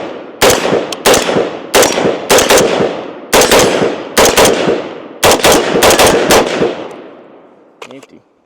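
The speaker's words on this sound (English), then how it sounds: "Let's go ahead and take some shots with her." A PSA Jakl rifle fires a string of loud, sharp shots in quick bursts with short gaps between, close-up and echoing outdoors, ending with a faint metallic clink.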